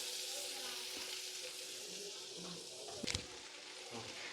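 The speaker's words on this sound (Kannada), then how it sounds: "ಸೊ ಒಂದು ಅರ್ಧ ಬಟರ್ ಹಾಕ್ತೀನಿ" Half a block of butter hits a hot pan in a chicken-cooking setting, giving a steady broadband sizzle with a brief sharp clatter near the end, moderately quiet and with no talking.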